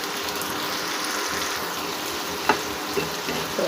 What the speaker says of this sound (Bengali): শুটকি রান্না করছি